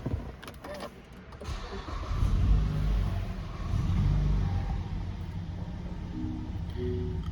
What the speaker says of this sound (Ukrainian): Як бачимо, двигун працює рівно.